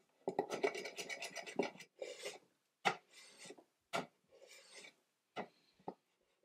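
A Stanley Handyman H1247 hand plane scrapes dried glue off wooden sash clamps in a series of close, quiet rasping strokes, some long and some short, separated by brief pauses.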